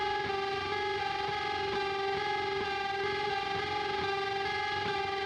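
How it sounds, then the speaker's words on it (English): Heavily distorted electric guitars from a song play as a dense, continuous wall of sound with steady sustained chords, alone with no talking. "I like the sound design with the guitars on the side,"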